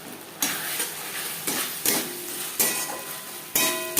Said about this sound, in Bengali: মশলার সাথে বেশ ভালো করে মিক্স করে দেবো